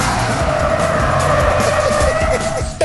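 Aston Martin V8 Vantage drifting on a track, tires squealing in a sustained high screech over a loud, steady engine roar that stays close throughout.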